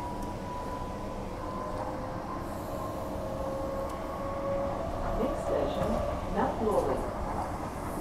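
A Transperth A-series two-car electric passenger train rumbles along steadily with a sustained metallic whine, wheels squealing and clattering more toward the end, heard from on board.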